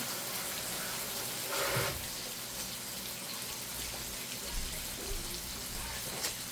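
Tap water rinses peeled mushrooms in a steady, hissing stream that runs throughout, broken by a few brief splashes and shifts as the mushrooms are moved under the flow.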